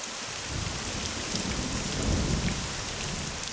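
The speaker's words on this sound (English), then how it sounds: "Here in the rainforest, it can rain really hard." Heavy rain pours down in a rainforest as a dense, continuous roar. Low rumbling that swells near the middle suggests thunder, and no voices are heard.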